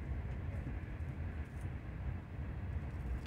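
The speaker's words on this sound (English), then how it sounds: "Hear the train?" A train passes outside, heard indoors as a steady, continuous low rumble that holds evenly throughout with no voices over it.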